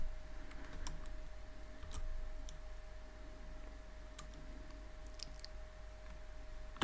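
Scattered clicks of typing Python code on a computer keyboard, set against a steady low hum and a thin constant tone, with no talking.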